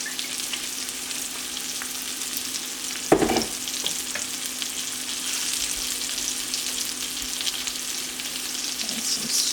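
Asparagus sizzles steadily in hot oil in a frying pan, a loud, continuous crackle with a brief clatter partway through as the spears are stirred or moved.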